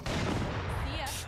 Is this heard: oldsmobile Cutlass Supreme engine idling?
no